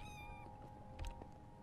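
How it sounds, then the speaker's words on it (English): Cats in the Minecraft video game meow loudly and close, a cluster of repeated mewing calls with high harmonic tones, one louder yowl standing out near the middle. "these cats are so loud in my ear, bro"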